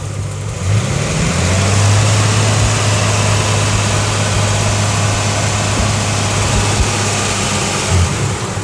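A repaired engine idles steadily and loudly on its own, a smooth, even drone with no valve or lifter ticking audible throughout.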